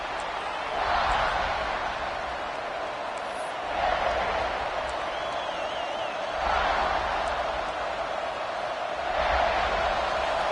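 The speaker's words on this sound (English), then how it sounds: "It's early, but this crowd is fired up. Listen to this noise here." A college football stadium crowd at a USC versus Texas A&M game keeps up a steady, distant roar that swells in loud surges every few seconds.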